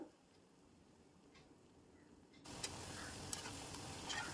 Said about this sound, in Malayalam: ഇനി ഇതിലേക്ക് നമുക്ക് വട ഇട്ട് കൊടുക്കാം ഇതൊന്ന് ഫ്രൈ ആയി കിട്ടാൻ കുറച്ച് സമയമെടുക്കും